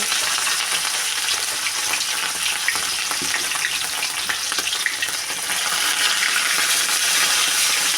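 Pieces of katla fish frying in hot oil in a kadai, a steady loud sizzle and crackle running unbroken throughout with no talk.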